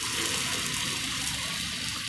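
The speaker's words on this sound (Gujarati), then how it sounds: "પછી એમાં થોડુંક પાણી નાખવાનું" Water is poured from a glass into a pan of cooking mango and green chilli for a Gujarati sambharo, making a steady, close gushing splash that runs unbroken with no talking.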